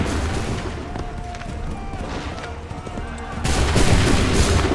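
A musket volley in Assassin's Creed III, soldiers firing on command; a sustained rumble of shots and battle noise that swells into a loud, dense crackle of gunfire near the end.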